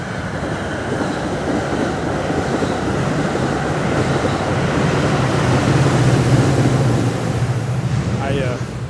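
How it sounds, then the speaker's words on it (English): A train rumbles past up close, a loud, steady roar of wheels and rail noise filling the whole stretch, with a brief high squeal near the end. "there's about to be a train go by here. It's going to make a lot of noise."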